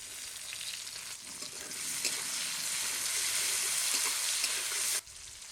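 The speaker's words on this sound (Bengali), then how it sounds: "ফোড়ন দিয়ে দেবো শুকনো লঙ্কা তেজপাতা গোটা জিরে দিয়ে দেবো পেঁয়াজ কুচি টমেটো কুচি" Dry chilli, bay leaf, cumin, onion and tomato tempering in hot oil, giving a loud, continuous crackling sizzle that swells midway and drops off abruptly near the end, with no talk.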